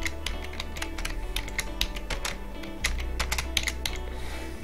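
Computer keyboard typing at a steady pace, light close keystroke taps over a low constant background hum, with no talk.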